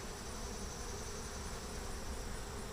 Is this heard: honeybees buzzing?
yes